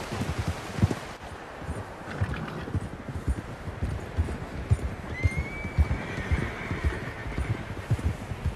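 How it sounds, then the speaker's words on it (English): Horses neigh and hooves clip-clop on dirt in the Red Dead Redemption 2 game world, a steady busy trample with a drawn-out whinny rising near the end, set against a light rain-like ambience. "Horses, quite a few of them."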